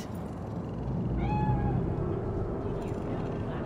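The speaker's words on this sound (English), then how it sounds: "Do you see it? That cat?" A single drawn-out meow from a cat in the video game Cyberpunk 2077, rising and falling over a dull, steady city background hum, fairly close and clear, with no talk over it.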